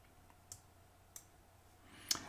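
Mouse clicks on the sort button in Microsoft Excel: three sharp, quiet clicks spread across a near-silent stretch, the last one the loudest.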